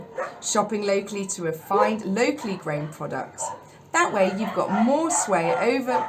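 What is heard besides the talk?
dogs barking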